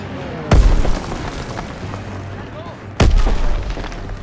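Grenade explosions in Call of Duty WW2 battle gameplay, two heavy booms spaced a few seconds apart over a constant din of combat noise.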